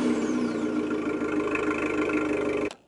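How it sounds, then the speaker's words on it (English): An Abarth 595 engine settling into a steady, close idle after starting, a continuous throaty hum with a slight growl that holds evenly before cutting off abruptly at the end. "you sort of get a little bit of an idea of the growl of the car from there"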